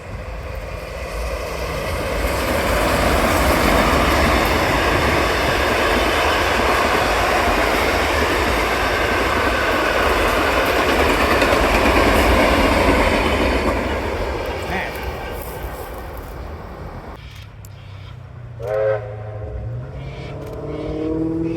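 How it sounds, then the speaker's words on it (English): Heritage broad gauge train running, a loud steady rumble and rolling roar that builds, holds for several seconds, then fades away into quieter surroundings with a brief clank near the end. "we'll take a look at a special heritage train that ran"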